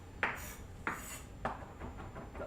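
Knife chopping shumai filling by hand on a board, a few distinct, fairly quiet chops spaced about half a second apart, with no talking.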